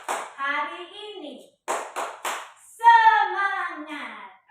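A teacher's class of sixth graders does the "tepuk semangat" clap chant, with bursts of hand claps falling between chanted children's and adult voices, close and lively.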